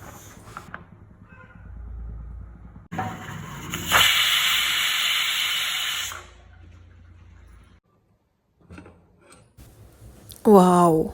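Pressure cooker on the stove while palak chicken biryani cooks, giving a loud, sustained hiss of steam for about two seconds, close by, with quieter background noise and a brief rising whistle near the end.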